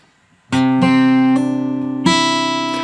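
Slow guitar chords from a chord melody exercise ring out one after another, each struck cleanly and left to sustain, close and fairly loud with no voices.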